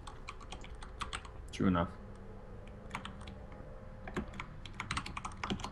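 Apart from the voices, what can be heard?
typing on a computer keyboard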